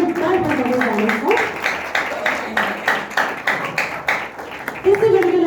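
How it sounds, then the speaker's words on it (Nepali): An audience claps steadily at a Christmas song launch event while a voice speaks over the clapping. "हामी ताली चाहिँ जोरदार बजाउँदै जानेछौँ।"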